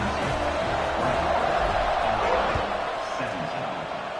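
Football stadium crowd roaring steadily just before a kickoff, a dense broad wash of cheering voices filling the whole stretch, with a game announcer talking over it.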